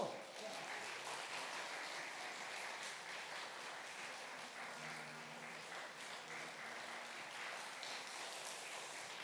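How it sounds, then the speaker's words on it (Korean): Applause from a church congregation at a Wednesday prayer meeting, sustained clapping from many people at a moderate distance, quiet overall, with a faint voice briefly heard in the middle. "자, 박수."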